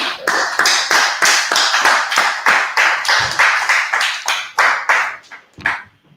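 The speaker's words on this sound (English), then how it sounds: "clap it up" Close, rhythmic group clapping with strong regular beats runs for about five seconds, then tapers into a couple of final scattered claps and stops.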